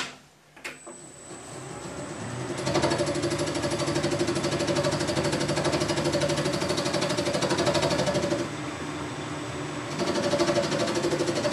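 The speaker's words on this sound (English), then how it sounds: "Just taking nice light cuts, no hurry." A metal lathe takes light cuts on a steel ball, a steady mechanical whir with a faint high whine that starts after a brief knock and runs continuously, close and fairly loud.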